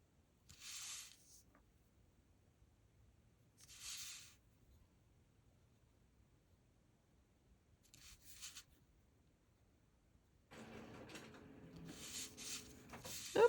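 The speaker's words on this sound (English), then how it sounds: "Oop, that's my printer." A home printer runs near the end, a steady mechanical whir with rolling feed noise, after several earlier short scratchy rubbing sounds of drawing separated by quiet gaps.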